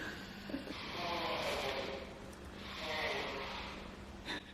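A person blows his nose in two long, breathy, snorting blasts against a faint background hum, with a softer sniff at the end.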